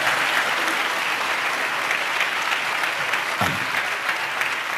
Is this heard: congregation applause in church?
yes